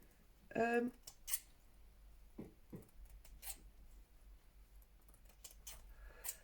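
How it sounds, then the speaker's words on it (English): A few crisp snips of scissors cutting paper for a collage close to the mic, with rustling and small handling noises between cuts. "use my lovely new scissors from Helen, thank you Helen,"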